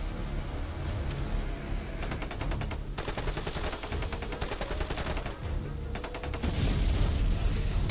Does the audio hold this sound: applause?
no